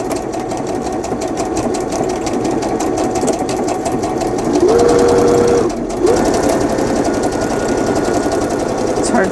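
A sewing machine stitches a fabric journal cover with a steady, fast mechanical whir and needle chatter throughout, briefly louder in the middle with a short pause, close and prominent.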